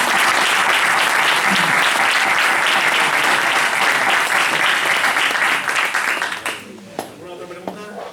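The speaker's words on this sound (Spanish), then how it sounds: "Eso se merece un aplauso, ¿no?" Loud, dense audience applause at a Spanish public talk, sustained steadily for about six seconds before thinning out into a few scattered claps and murmurs.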